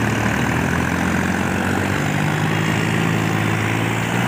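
A Mahindra 265 DI tractor engine pulls under load, giving a loud, continuous low diesel drone with a steady throb and no talk.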